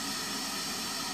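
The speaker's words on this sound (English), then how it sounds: "You hear that it's still static." Steady broadband FM radio static hiss from a tuner set to an empty station in a garage, continuous and fairly loud with no other sounds.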